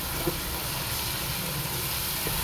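Tomatoes tipped into frying onions in a pan for palak gosht, giving a steady close broadband sizzle and hiss throughout, with no speech.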